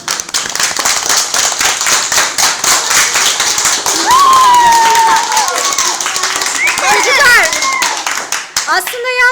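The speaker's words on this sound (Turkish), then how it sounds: "Neslihan için bir alkış istiyorum" Children in a classroom clap for their teacher in a loud, close burst of scattered hand claps, with excited kids' voices and shouts rising over the clapping.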